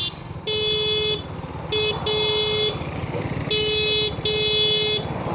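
Horn of a TVS Sport BS6 motorcycle, a thin high-pitched beep sounded in several presses of varying length, some short taps and some held about a second, close and loud over a running engine.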